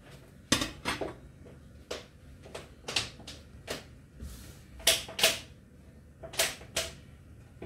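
A kesra flatbread is flipped on a crepe pan. A run of sharp, close clinks and taps from a utensil striking the pan comes in irregular bursts over a quiet background.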